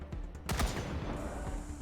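Automated turrets firing in the post-apocalyptic tactical game Wasteland 3, a brief burst of several sharp reports clustered near the middle over a low rumbling backdrop.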